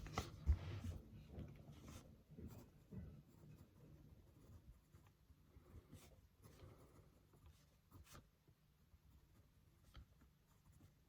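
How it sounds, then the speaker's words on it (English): A pen or pencil writes notes by hand on paper in quiet, scratchy bursts of strokes with short pauses, close and faint, and no one speaks. "I'm gonna actually write that down."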